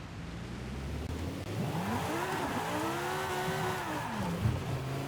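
A Radical RXC race car in a Forza Horizon 5 drift challenge drives with a steady loud engine drone, its pitch rising and falling through revs and gear changes, with a tire squeal edge and no talking.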